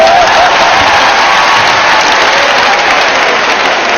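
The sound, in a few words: crowd applauding and cheering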